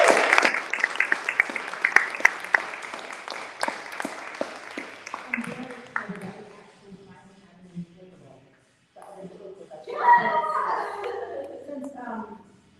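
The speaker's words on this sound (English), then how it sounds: "give a huge round of applause to our students up here, our students in the audience" Applause from a crowd at a noon pep rally for CT History Day students fills the first seconds with dense, close clapping, then thins out and gives way to speech.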